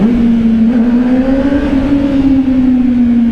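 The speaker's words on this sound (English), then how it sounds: "this bike's got the Yoshimura exhaust on it" A 2025 Honda CBR600RR fitted with a Yoshimura exhaust roars loud and close inside a tunnel, holding a steady high-revving drone that rises slightly in pitch and then eases back.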